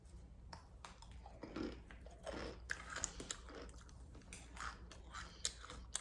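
Someone chews crunchy homemade granola close to the mic, making soft, irregular crunches and bites against a quiet background hum.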